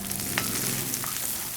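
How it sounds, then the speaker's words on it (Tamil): Onion and capsicum fry in hot oil with ginger and garlic for chilli chapathi, giving a steady close sizzle with a few soft stirring scrapes. "அதுக்கப்புறமா வெங்காயமும் கேப்சிகமும் சேர்த்துக்கிறேன்."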